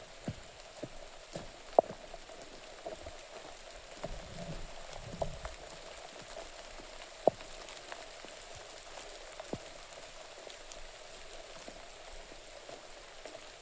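Steady rain falls at Avchitgad fort in Raigad, a soft continuous patter with a few sharper drips and knocks scattered through it, fairly quiet and without voices.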